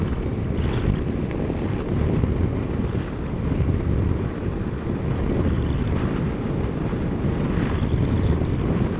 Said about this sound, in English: the wind isn't really affecting the bike, it's just directing a lot of noise at my helmet